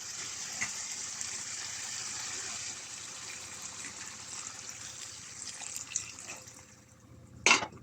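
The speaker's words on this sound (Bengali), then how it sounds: "এবার পরিমাণ মতো পানি দিয়ে দিতে হবে।" Water poured into a pan of eggplant and bean curry with dried fish makes a steady gushing splash for several seconds, then thins into softer trickles and ends in one sharp louder splash near the end.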